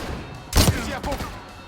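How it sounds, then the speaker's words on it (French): A shotgun goes off in the Black Ops 6 campaign, one loud, close blast with a short rattling tail and a weaker follow-up noise against a constant game background. "Fusil à pompe."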